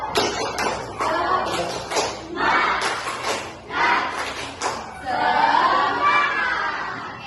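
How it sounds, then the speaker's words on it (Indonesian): A primary school class in Indonesia does the 'tepuk semangat' spirit clap, bursts of rhythmic group clapping with children's voices chanting along, then a stretch of mixed shouting and clapping near the end. "Tepuk semangat."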